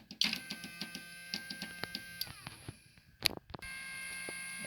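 A small electric motor in a relay lab circuit runs with a thin whine and steady hum, broken by a series of sharp ticking clicks and a brief loud rattle near the end.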